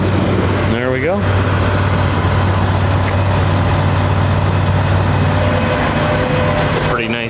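Another truck idles nearby, a steady low rumble running throughout at an even level, loud and close, with a short voice near the start and near the end.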